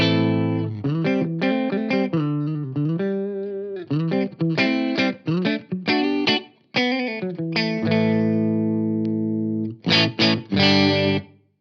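Clean electric guitar played through a Mesa/Boogie Studio Preamp with the bright switch on, giving a bright, Fender-like tone. Chords and single notes ring out with short pauses between phrases, and no one talks.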